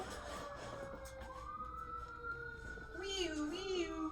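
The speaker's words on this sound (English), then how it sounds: "So sirens. Oh, sirens again." Emergency vehicle sirens wail from outside, faint and distant, with long rising and falling tones that grow layered and slightly louder toward the end.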